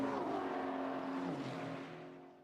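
A GT4 race car powers out toward a corner on the Jeddah track, its engine note loud and steady before dipping in pitch as it drops away, a brief close pass with no speech.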